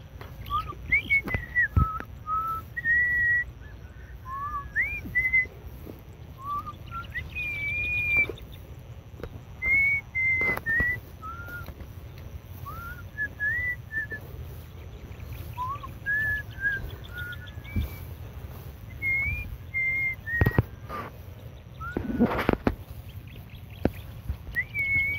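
A person whistles outdoors while walking in a rural field, with short melodic phrases repeated throughout over a low background rumble and a few scattered knocks.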